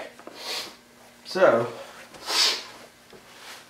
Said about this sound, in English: I apologize for my sniffing